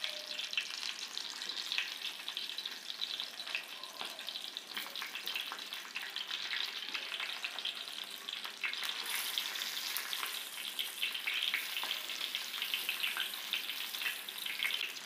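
Whole eggplants with a few garlic cloves fry in hot oil, giving a steady, even sizzling hiss with no voices.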